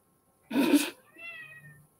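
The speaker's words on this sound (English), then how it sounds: "As I'm sure you may or may not have heard in the background, the cat is somewhere." A cat gives a loud, drawn-out meow, followed by a softer, quavering second meow trailing off, close by with no talking.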